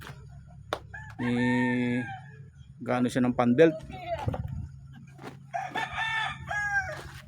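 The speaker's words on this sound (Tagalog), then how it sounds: "Ito yung alaga nilang manok dito sa site, dito sa bundok." A rooster crows loudly nearby at a mountain heavy-equipment work site, a long drawn-out call repeated with clucking in between, while a person speaks over it.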